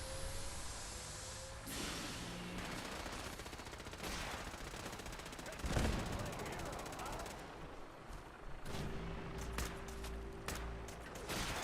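Companion Curie firing at a vertibird in Fallout 4: bursts of rapid gunfire and sharp shots running through the scene, with one louder blast near the middle, over steady game ambience and a low engine drone.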